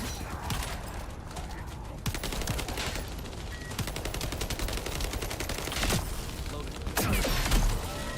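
Turret gunfire in the video game The First Descendant: rapid, dense bursts of automatic shots crackling almost without a break, loud and close, with brief sharper blasts.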